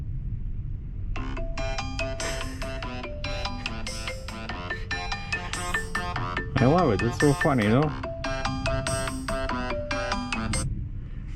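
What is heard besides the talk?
phone ringtone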